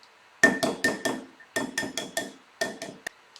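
A boiled egg for ramen-style marinated eggs has its shell cracked and picked away, giving a quick run of sharp, close tapping and crackling knocks in irregular bursts, with brief pauses between groups.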